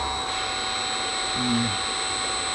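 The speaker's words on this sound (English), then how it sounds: "I'll just try and slow the spindle down manually." A CNC spindle motor runs with a steady high electric whine while it is slowed by hand, and a lower tone briefly dips and drops in pitch midway, with room noise around it and no clear talking.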